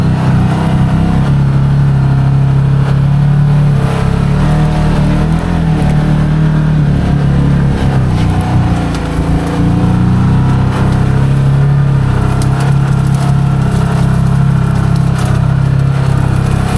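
A Can-Am Maverick XMR Sport churns through a muddy swamp with its tires spinning, its engine revving in a loud, close, steady low drone that swells and dips slightly throughout, with no talking.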